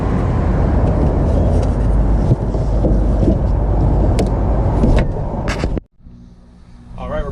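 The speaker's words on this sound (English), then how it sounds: "I got the air conditioners in the heat pump mode and compressor's running." Steady broadband rumble of a Dometic RV air conditioner compressor running in heat pump mode, loud and close, cutting off abruptly near the end, with faint talk afterward.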